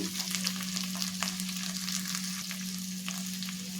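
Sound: cluster beans frying in an open pan

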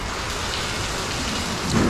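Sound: rain falling during truck loading

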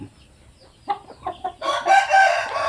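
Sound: rooster crowing

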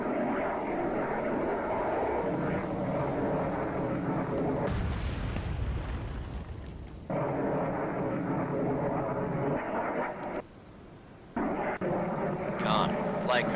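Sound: aircraft dropping weapons in video game Cold Waters

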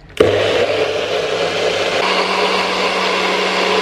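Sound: Nutribullet blender blending smoothie

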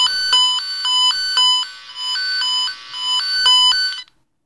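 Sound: tone generator signal heard through a wire tracing probe

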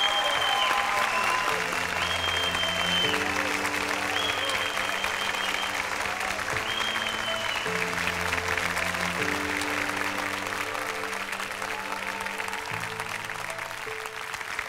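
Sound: studio audience applause

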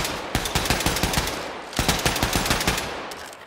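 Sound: heavy weapon gunfire in video game Wolfenstein II

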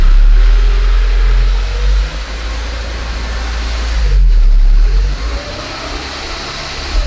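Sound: 1991 Ford Scorpio 2.0 Ghia engine running

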